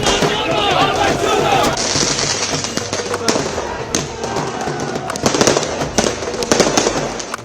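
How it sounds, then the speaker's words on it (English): Dense, continuous crackling of firecrackers popping rapidly at an election victory celebration in Jammu and Kashmir, with louder bursts scattered throughout and a crowd murmuring faintly underneath. "They are firecrackers lit in Jammu and Kashmir by supporters of parties that won the election."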